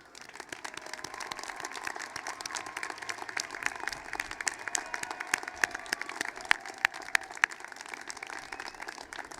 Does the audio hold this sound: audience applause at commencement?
yes